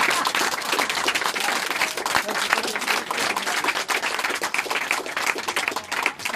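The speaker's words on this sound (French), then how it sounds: "un tonnerre d'applaudissements pour Michael" A thunderous round of applause fills a studio inauguration celebration, dense and sustained clapping from an audience throughout.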